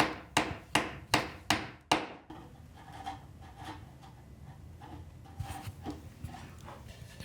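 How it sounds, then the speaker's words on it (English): A chisel on a wooden joint shoulder line in Japanese sashimono cabinetmaking: five sharp, evenly spaced strikes up close, then softer, scattered paring taps and scrapes. "I'll do a final pass with my largest chisel to get a nice,"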